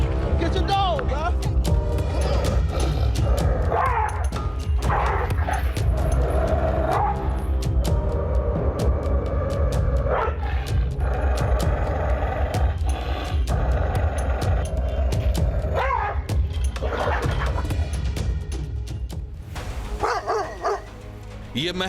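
A pit bull barks and yelps amid a loud, chaotic scene, with people shouting over it and traffic noise around.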